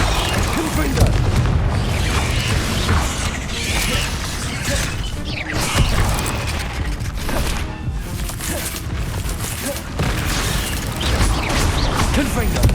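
Confringo fire spell cast in the Hogwarts Legacy video game, a string of loud booming blasts and crackling magical impacts running continuously over dense game sound, with a voice shouting spell names over it.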